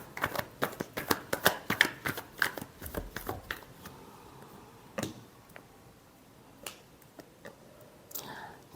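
Tarot cards are shuffled in a quick run of crisp riffling snaps close by, then slow to a few isolated flicks and taps, with soft speech present.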